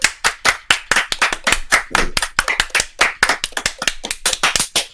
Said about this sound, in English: Everyone clap at the same time.